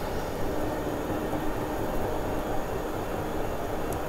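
A passenger train brakes as it approaches Cardross station, giving a steady, dense rumble and hiss from inside the cab that stays even throughout, with no talk.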